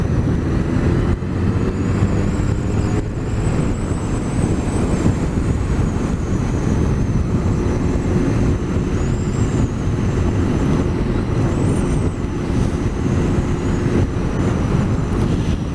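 Honda CB1300 S motorcycle riding along a road, steady loud engine and wind roar filling the whole stretch without a break, with no speech.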